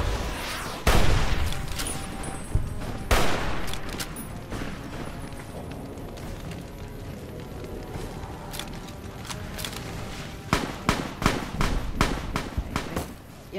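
Gunfire and grenade explosions in the video game Fallout New Vegas, rapid bursts of shots with sharp loud blasts scattered across the clip, close and intense.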